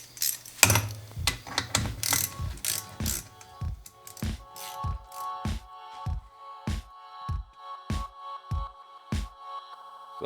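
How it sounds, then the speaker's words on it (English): An old mountain bike's front brake is adjusted, giving a long run of sharp mechanical clicks and ratcheting ticks, fast at first and then evenly spaced, close and clear with no talking. "I need to adjust the front brake a little bit so that I can go ride it"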